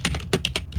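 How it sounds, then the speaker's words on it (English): A loud computer keyboard clatters with several quick keystrokes in a short burst, close and crisp with no talking. "hear you typing from across the room"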